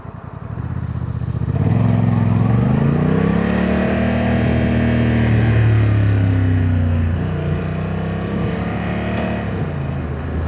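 A Honda Africa Twin motorcycle on the move, its engine droning steadily and close, rising in pitch as it pulls away and then easing back, with no talk.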